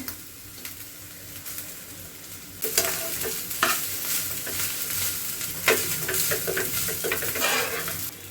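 Rice tossed into half-fried vegetables in a home kitchen pan and stir-fried, a quiet sizzle that grows louder partway through, with scraping spatula strokes and occasional clanks against the pan.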